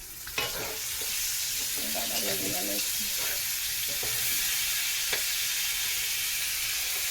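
Pointed gourd (potol) slices frying in oil in a home kitchen, a steady sizzle throughout with occasional stirring clinks and scrapes near the pan, no talk.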